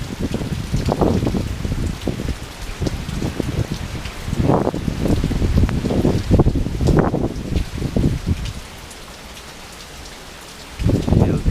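Steady tropical-storm wind from a hurricane rushing through a bee yard, loud roaring gusts that surge and buffet, ease off briefly near the end, then pick up again.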